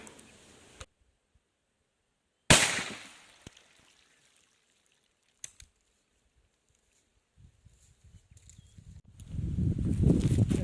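A .410 shotgun fires an 8 gram European slug, one sharp loud report after a stretch of silence, trailing off quickly, followed by faint clicks and rising outdoor rumble.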